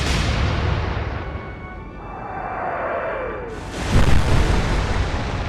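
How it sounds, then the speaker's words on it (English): A large explosion in the scout-plane fuel bunker of a warship during a World War II naval battle in the Atlantic: a deep rumbling roar with a sharp loud burst partway through, then sustained heavy noise. "Setting off a large explosion in the fuel bunker for the scout plane"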